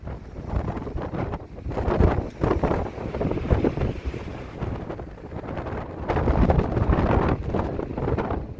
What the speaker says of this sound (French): ça souffle vraiment très fort, des rafales à au moins 50 voire plus je pense